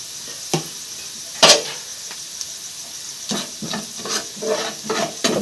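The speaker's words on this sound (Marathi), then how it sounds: "आपण पहिले काय करू जिरं मोहरी टाकून घेऊया" Cumin and mustard seeds dropped into hot oil, giving scattered sizzling bursts and crackles, with a sharp pop near the start and more frying hisses later, no talking.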